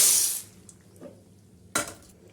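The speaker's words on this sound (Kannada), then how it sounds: "ನಾನು ಇವಾಗ ಪಾಸ್ತಾ ಹಾಕೊಂತೀನಿ." Dry pasta drops into a pan of boiling water: a loud splashing rush at the start, a small plop, then a second splashy burst, close by, with quiet in between.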